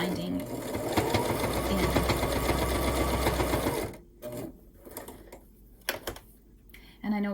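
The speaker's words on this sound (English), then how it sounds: "I'm stitching just a little tiny bit in from the end, the machine doesn't have any trouble taking the binding" A sewing machine runs steadily for about four seconds, a fast even mechanical stitching hum as binding is sewn on a micro mini quilt, then stops, leaving soft handling noises and a brief spoken word.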